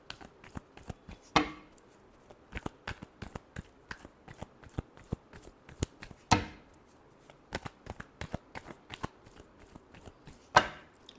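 Tarot cards are shuffled in rapid, crisp riffles and taps. The steady clicking is broken by three louder bridging flutters spaced several seconds apart.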